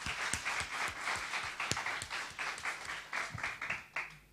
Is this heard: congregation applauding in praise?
yes